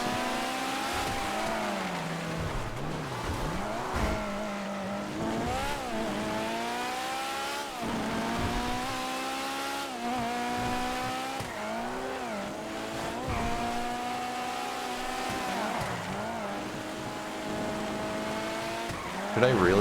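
Racing video game car engine with tire squeal, a steady revving engine tone rising and falling in pitch with shifts, under continuous talk.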